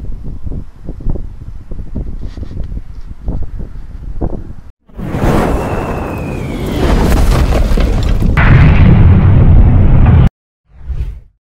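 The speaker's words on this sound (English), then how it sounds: "people around the world have reported loud booms coming from the sky, with no clear source, no thunder, no jets, just a sudden explosion-like sound out of nowhere" A skyquake, a sudden explosion-like boom from the sky with no clear source, comes as a deep, loud rumbling roar with whooshing wind-like noise that swells and cuts off abruptly, then a short final burst.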